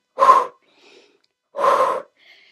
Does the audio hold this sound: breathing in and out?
yes